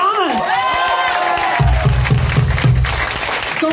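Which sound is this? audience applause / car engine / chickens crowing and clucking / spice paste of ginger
audience applause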